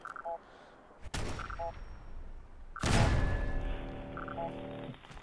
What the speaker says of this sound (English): Let's shoot that thing.